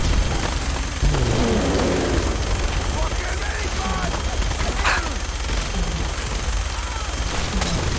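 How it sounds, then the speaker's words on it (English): Enemies fire small pistols during a Fallout 4 fight, a dense patter of rapid gunshots continuing throughout, with brief bursts and game sounds mixed in at steady loudness. "Big tiny men shoot at Thronk with little pistols."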